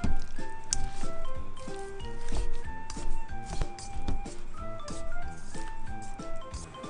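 Kakiage tempura frying in hot oil at around 160 to 170 degrees, with a busy, close bubbling sizzle and scattered pops and crackles throughout, fairly loud and continuous.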